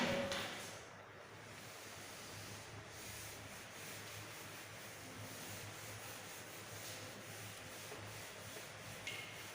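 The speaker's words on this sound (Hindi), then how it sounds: "इसको रब आउट करते हैं।" Steady, soft rubbing and scrubbing as writing is erased from a board, continuing evenly without a break and with no voices.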